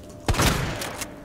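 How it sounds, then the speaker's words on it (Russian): Gunfire from Resident Evil 2 Remake: a sharp burst of shots with a lingering roomy tail, followed by a fainter later report, all fairly close and loud with no talking. "Пришлось два раза выстрелить."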